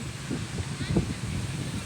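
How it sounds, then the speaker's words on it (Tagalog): Strong southwest monsoon wind buffets the microphone with a steady broadband rush and low rumbling gusts, loud and close throughout, with a person talking over it. "Hangin habagat"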